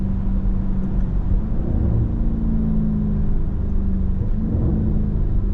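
A 2025 Lamborghini Urus SE super SUV drives down the road, its engine giving a loud, continuous low rumble with rising and falling tones as it shifts gears.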